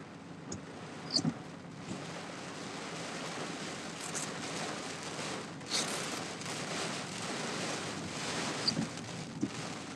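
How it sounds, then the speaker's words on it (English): Wind gusts from Hurricane Helene roar as a steady broad rush with a couple of swelling surges and scattered thumps and rattles, with no voices. "there was a good gust"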